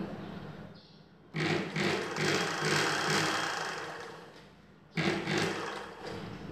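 A sewing machine stitches a straight seam on a katori blouse in two runs: a short pause after a soft start, then a steady whirring run, a brief stop, and a second run, all moderately close.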